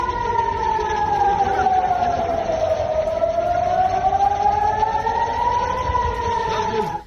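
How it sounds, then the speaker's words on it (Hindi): A loud wailing air-raid siren in a war zone rises and falls in long, slow sweeps, sustained and steady throughout. "रात भर सायरन की आवाज गूंजी।"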